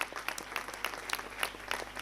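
A church congregation at a Christmas sermon claps in brief, uneven bursts, faint and somewhat distant, with scattered individual claps standing out.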